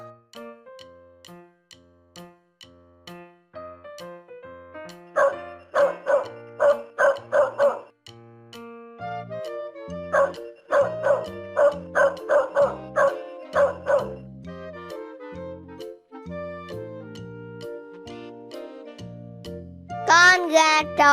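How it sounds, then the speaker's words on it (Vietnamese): Repeated dog barks come in two quick clusters of sharp, loud bow-wows over bright, steady children's music, with softer background tones between the bursts. "Con chó."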